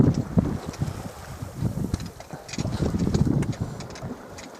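Wind gusts over a sailboat on the misty sea off the coast of Portugal in August, buffeting the microphone with uneven low rumbles. Faint splashes and creaks mix in, and no one speaks.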